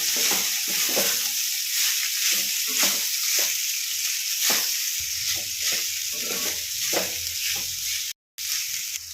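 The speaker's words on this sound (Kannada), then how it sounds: "ಈಗ ರೈಸ್ ಹಾಕ್ಕೊಳ್ತೀನಿ ಇವಾಗೆಲ್ಲ ಮಿಕ್ಸ್ ಮಾಡ್ಕೊಳ್ಳೋಣ ರೈಸ್ ಎಲ್ಲ ಇದಕ್ಕೆ" Cooked rice being stirred into a black pepper masala in a hot pan, with continuous sizzling and frying broken by repeated scraping stirs, close and fairly loud, with no talk and a brief dropout near the end.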